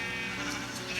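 A Minecraft sheep bleats in the video game, a single drawn-out, wavering cry heard clearly with no talk over it.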